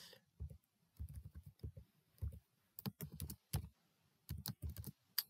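Fingers type a number on a computer keyboard in short clustered bursts of crisp key clicks separated by brief pauses, close and fairly quiet, with no talk.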